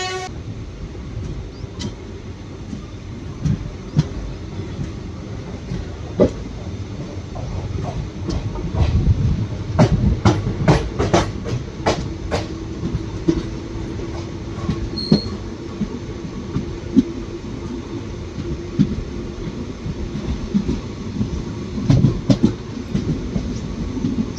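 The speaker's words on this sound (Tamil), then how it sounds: "ஸோ பனக்குடியிலேருந்து ட்ரெயின் டிபார்ட் ஆகிடுச்சு." Train 06642 on the Tirunelveli–Kanniyakumari line pulls out of Panagudi station with a continuous rumble of rolling wagons, occasional wheel squeals and a brief toot over steady clatter.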